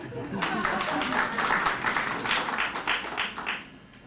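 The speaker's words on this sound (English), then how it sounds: "Give yourselves a round of applause in that case." Audience applause breaks out at a city candidates debate, a short burst of scattered clapping from a modest crowd that swells and tapers off over a few seconds.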